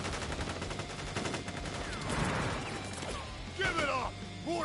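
Troops open fire in the video game Crisis Core: Final Fantasy VII Reunion, a dense, continuous volley of rapid gunshots under background score, with voices shouting over the shooting.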